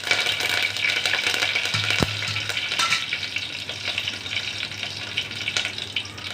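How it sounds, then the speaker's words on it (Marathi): Mustard seeds and curry leaves frying in hot oil for a spicy Satara-style amti, making a loud, dense crackling sizzle up close with a sharp metallic clink of a spoon partway through. "आपलं तेल गरम झालेलं आहे त्याच्यामध्ये पहिल्यांदा आपण मोहरी टाकून घेऊया त्याच्यानंतर कढीपत्ता टाकूया"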